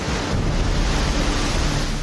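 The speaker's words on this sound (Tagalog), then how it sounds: "hinampas na ng malalakas na alon." Loud, steady roar of surf with heavy rumbling waves crashing on the coast of Catanduanes, Philippines, and wind buffeting, continuous throughout with no voices.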